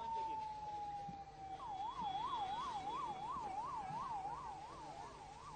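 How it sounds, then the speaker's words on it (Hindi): An ambulance carrying injured children away from an IED blast site in Rajouri sounds its siren: a long falling tone, then a steady rapid up-and-down warble over background traffic noise. "आपको दिखा दें कि एम्बुलेंस बच्चों को यहाँ से ले जाती हुई"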